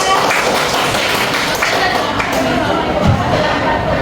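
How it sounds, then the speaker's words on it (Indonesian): Audience applause in a classroom teaching session, a dense, lively clatter of many hands clapping at once, heard close and steady throughout with scattered sharper taps. "Beri tepuk tangan yang meriah."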